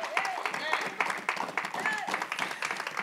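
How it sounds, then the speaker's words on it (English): A church congregation claps in praise, with sharp individual hand claps rising over a crowd as voices carry on throughout. "Praise, give the Lord a hand clap of praise."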